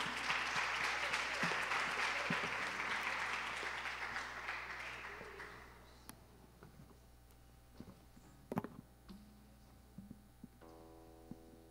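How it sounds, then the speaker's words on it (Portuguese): A church congregation applauds in praise, a dense burst of clapping that is loud at first and gradually dies away, leaving scattered taps and faint room noise with a steady low hum. "Vamos aplaudir o nome do Senhor Jesus."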